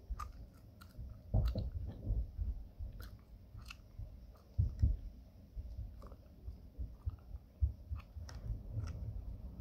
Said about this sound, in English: hopefully it has good sound quality and you can hear the chewing